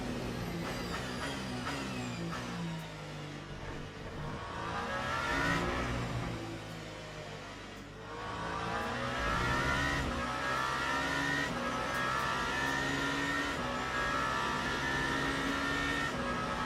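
Race car engine in a racing video game at Imola, revving loudly and continuously with rising and falling pitch through gear changes, a brief dip near the middle, other cars close by.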